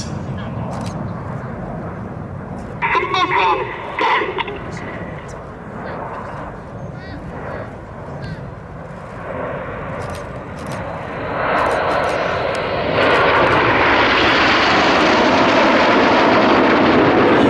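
Red Arrows jet aircraft flying a display at the Sywell 2024 air show, a loud, rising jet roar that swells steadily toward the end, with a commentator talking over it.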